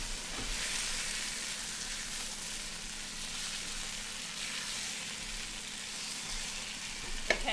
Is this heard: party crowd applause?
no